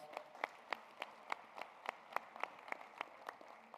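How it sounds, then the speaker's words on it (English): Sparse, faint clapping at a purpose summit, a small audience applauding WD-40 representatives, with distinct individual claps in a steady, slightly uneven rhythm and little crowd fill. "Can we give them a round of applause?"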